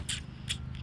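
Two or three quick, crisp snips of scissors cutting, faint and close, with a low background hum and no talking.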